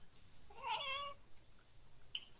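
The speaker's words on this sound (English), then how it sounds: "Cat's like, I'm here. Give me attention, human." A cat gives a single clear meow, moderately close and fairly quiet, against a faint background with a couple of tiny high clicks afterward.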